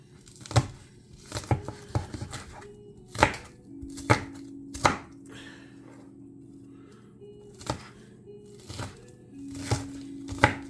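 A knife dices red onion on a cutting board, making irregular sharp chops with pauses between bursts, close and clear over a faint low hum, with no talking.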